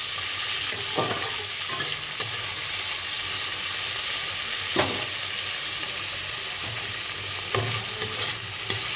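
Steady loud frying hiss from a pan on a gas stove with the flame turned up, potatoes cooking for a vegetarian dish, broken by a few sharp stirring scrapes and clinks.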